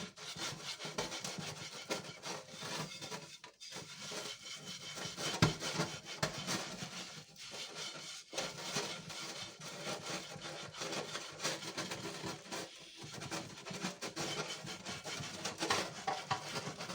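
A cloth scrubs hard at a dirty casserole dish cleaned with baking soda: continuous, close rubbing and scraping strokes in a steady back-and-forth rhythm, fairly quiet and without talk.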